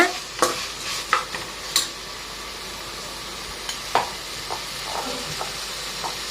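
Onions and vegetables for paneer biryani sizzle and hiss softly in a pan, with a spoon stirring and scraping in occasional clicks over the steady frying noise.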